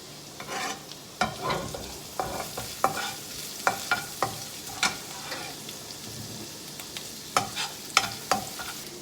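Chili chicken ingredients, ginger and garlic, stir-fried over a high flame: constant sizzling under frequent irregular clanks and scrapes of a spatula against the pan, close and lively throughout.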